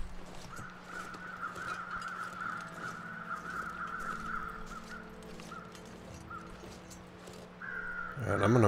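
Crows cawing in the snowy wilderness of The Long Dark, a run of harsh repeated caws over a low steady hum, followed by a louder burst at the end.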